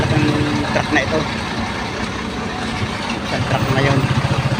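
A big truck's engine idles nearby with a low, steady, pulsing rumble that throbs louder toward the end, while someone talks over it.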